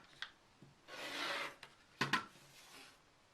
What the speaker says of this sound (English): So I'm trimming through the top, the batting, and the backing.